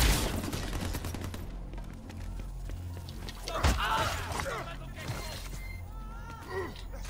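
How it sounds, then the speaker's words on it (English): Harlington Cryo Shotgun blasts in Crackdown 3 co-op play, several loud shots and impacts amid continuous game noise, with people talking over the action. "The Harlington Cryo Shotgun."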